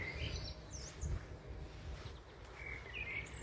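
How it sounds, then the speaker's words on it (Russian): Birds chirp and trill faintly in the distance over a low, steady outdoor hum, with scattered calls coming and going. "птицы поют просто потрясающе"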